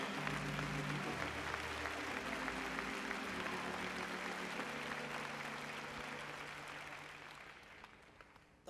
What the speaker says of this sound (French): Oh, vous pouvez acclamer le Seigneur Jésus